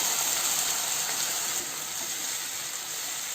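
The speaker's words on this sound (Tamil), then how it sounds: "வதங்கின வெங்காயத்தோட இந்த தக்காளி விழுது சேர்த்து நல்லா வதக்கிக்கணும்" Tomato paste sautés with fried onions in a pan for a mushroom masala gravy, giving a steady, close, even hiss of sizzling with no speech.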